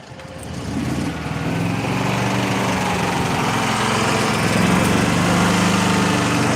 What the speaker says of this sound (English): Let's get that pressure washer on